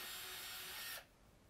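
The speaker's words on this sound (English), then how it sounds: "You can drill in every part that has a red dot on it." A power drill whirs as it bores holes in a model rocket airframe, a steady high whine for about a second that stops abruptly, leaving quiet room tone.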